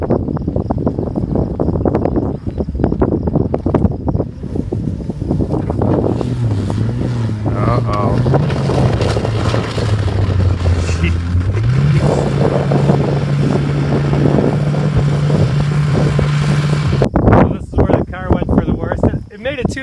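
Pontiac Grand Prix GT car engine revving and bogging down off-road before a jump, a steady droning engine note that rises in pitch and holds, heard close under wind buffeting and people talking.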